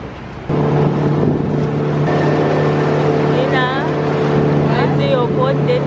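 A motorboat engine drones steadily at close range, starting abruptly and holding an even hum while people's voices come in over it.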